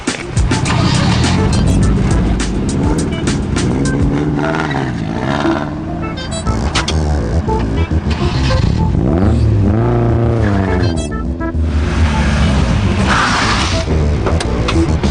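Car drifting on a mountain touge road with a stiff stock clutch, engine roaring and revving loudly throughout with rising and falling pitch, close and continuous.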